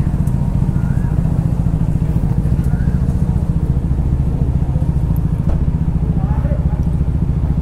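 Motorcycle engines, including a Royal Enfield Himalayan 450 among superbikes, idle nearby with a steady low throbbing rumble, and voices talk faintly in the background.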